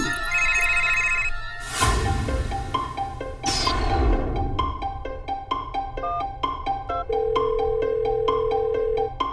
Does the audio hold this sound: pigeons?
no